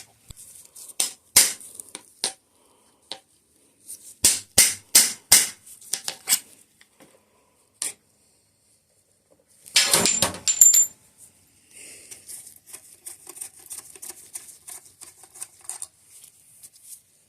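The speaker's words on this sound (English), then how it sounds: "Driving a star nut with our own star nut setter." A star nut setter drives a star nut into the cut steerer of a 2018 Specialized Epic S-Works mountain bike, sharp metallic taps arriving in irregular bursts, then a brief grinding scrape and lighter ticking.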